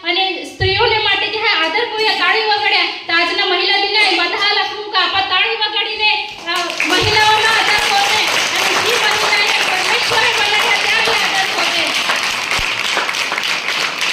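Audience applause at a Women's Day gathering, a dense wash of clapping that swells partway through and holds steady and loud, following a stretch of singing or speech with music underneath.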